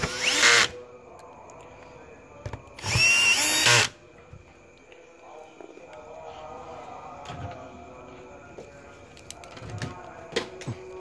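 A power screwdriver tightens bolts on an LG LED TV under repair, with two loud whirring bursts near the start followed by quieter clicks, handling noises and faint background sounds.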